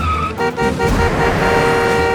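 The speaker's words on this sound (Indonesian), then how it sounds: "Mas Tejo, awas ada mobil, Mas!" A car approaches with its horn honking. Two short toots come first, then a longer blast as the engine noise swells loud and close.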